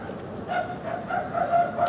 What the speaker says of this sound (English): That barking dog is my dog chasing squirrels out here.